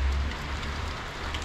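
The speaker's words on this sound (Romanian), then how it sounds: "ne uităm dinăuntru cum plouă afară" Rain falling outdoors in Hamburg, a steady, close hiss of drops hitting surfaces, with a low rumble underneath and no talking.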